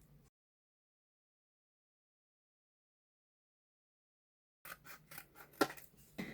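Scissors snipping through paper scraps for a handmade Christmas card, a short burst of close, crisp cuts arriving after a long silence.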